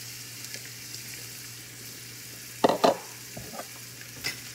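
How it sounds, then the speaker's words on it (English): Green and red bell peppers sizzle in a frying pan with garlic, a soft steady hiss under a couple of sharper bursts of crackle and clatter as they hit the hot oil. "So now we're gonna add our peppers, our green pepper and our red pepper"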